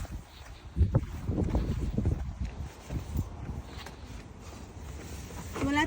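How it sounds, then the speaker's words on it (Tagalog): Strong outdoor wind buffets the microphone in heavy, uneven low rumbling gusts that fluctuate throughout, with no clear voices. "Sobrang hangin ngayong araw na to."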